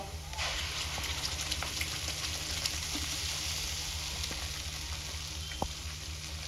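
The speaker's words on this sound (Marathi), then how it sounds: "आता इथे आपल्याला मसाला छान परतून घ्यायचा आहे" Ground green masala sautés in a pan with onion-garlic masala for a small vam fish curry, a continuous quiet sizzle with occasional light spoon taps.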